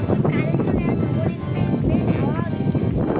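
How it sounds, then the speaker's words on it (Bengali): Strong monsoon wind sweeps across an open field behind a village house, roaring steadily into the microphone while people talk over it. "হাওয়া প্রচণ্ড চলছে"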